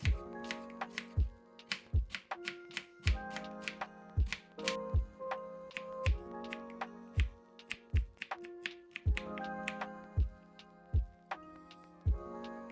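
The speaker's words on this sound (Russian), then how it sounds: "Затем на зажарку нарезаю лук." A knife taps rapidly on a cutting board chopping onion in quick uneven bursts, the crisp strokes close and clear with no talking.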